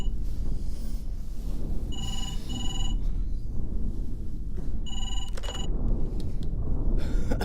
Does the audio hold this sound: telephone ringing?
yes